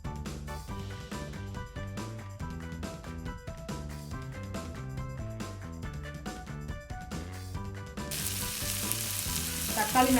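Tomatoes sizzle steadily in a hot pan beneath background music, growing louder and hissier toward the end.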